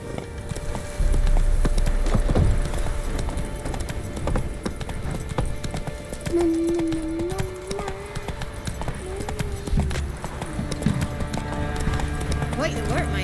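Roach the horse trotting in The Witcher 3: a steady, close clip-clop of hooves running throughout, with a brief whinny-like tone partway through and a voice talking over the hoofbeats.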